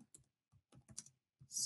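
Typing on a computer keyboard, with a few separate bursts of soft, close keystroke clicks and short pauses between them. A sharper, brighter click cluster comes near the end.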